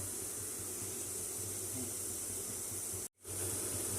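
Steam rises with a steady, even hiss from a pot cooking nool puttu (string hoppers). The sound is close and continuous, cutting out for a moment near the end before resuming.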